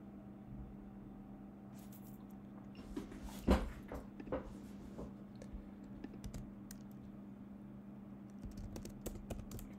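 Fast typing of React code on a computer keyboard, with quiet bursts of clicking keystrokes over a low steady hum, one louder clack midway, close and without talk.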